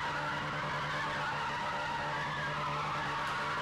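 Mitsubishi Evo with loose handling doing circle work in a racing video game, its tyres skidding in a steady unbroken smear of noise over a low engine drone, loud and close throughout.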